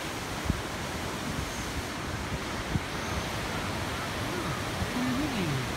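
Steady broadband rush of Ginga Waterfall in Sounkyo gorge, Daisetsuzan National Park, Hokkaido, heard from a distance as continuous roaring noise, with someone talking over it.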